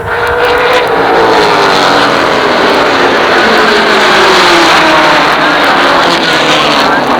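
Late model race cars roar past at Jennerstown Speedway during a 1988 feature race, a loud, continuous engine drone from a full field on the throttle, the pitch sweeping and layered throughout.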